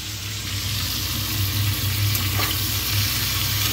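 Banana slices fry in a pan of hot oil, a continuous close sizzle with an even, steady hiss and a low underlying hum, no voices.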